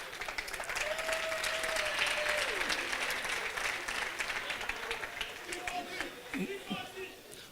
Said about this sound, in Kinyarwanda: Reka nsaba ababyeyi bahaguruke tubashime mukomera amashyi.